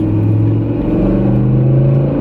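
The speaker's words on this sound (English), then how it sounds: "the sound of this engine sounds great" A BMW E60 M5 V10 engine revs continuously with a loud, close, steady rumbling drone and strong low harmonics, with no speech over it.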